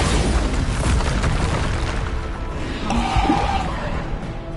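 A Bombarda blast spell goes off in Hogwarts Legacy, a loud booming explosion that rolls on and fades over several seconds, with no speech.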